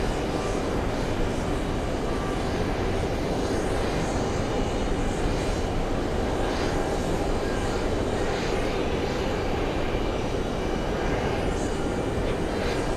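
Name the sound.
airplane landing on runway 22 left at JFK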